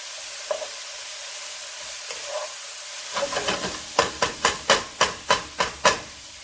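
Vegetables for pasta primavera with zucchini noodles cooking down in a pan over medium heat: a steady low sizzle, then a run of sharp, rhythmic scraping stir strokes near the end, with no talking.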